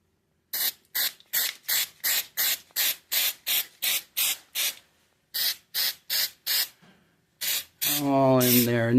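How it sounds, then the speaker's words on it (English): Rubberized undercoat sprayed from an aerosol can under the gas tank of a Ford Model A: a rapid series of short, loud hissing bursts, then a pause and more bursts, ending with someone speaking. "Yeah, spray it down into there too."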